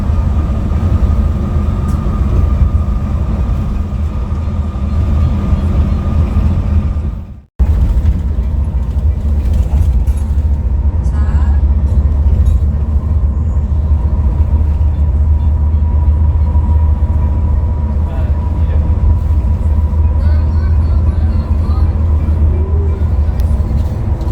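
Intercity bus heard from inside while it turns onto the South Sumatra toll road at night, a loud steady engine and road rumble with a brief dropout partway through, then continuing evenly.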